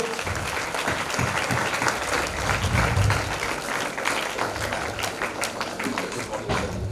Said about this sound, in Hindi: एक बार तालियों से स्वागत करें सभी लोग।